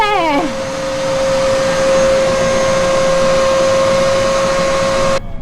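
A vacuum cleaner powered from the inverter on a Hallberg Rassy 35 sailboat whines up to speed and holds a loud, steady motor drone with a sharp tonal hum, then cuts off abruptly near the end.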